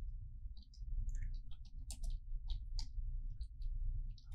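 Quick, light keystrokes on a computer keyboard, irregular clicks close by over a low steady hum, no voices.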